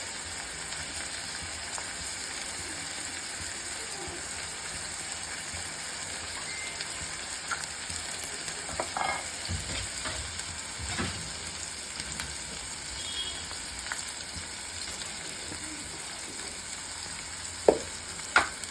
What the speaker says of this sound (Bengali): আমি মশলাটা কষাই দিচ্ছি